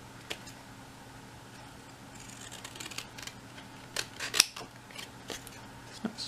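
Scissors snipping through watercolour paper card, a few sparse, sharp cuts and crisp clicks scattered over a quiet background, with no talk.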